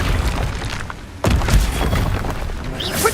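Incendio fire spell cast in Hogwarts Legacy, a sudden booming burst of flame erupting mid-clip amid game combat noise, loud and close.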